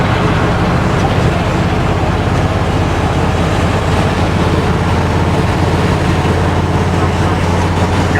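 Steady broadband road roar from a 1999 GMC tow truck with a 454 engine cruising at nearly 60 on the highway, continuous engine drone and tire noise with wind, loud and unbroken throughout.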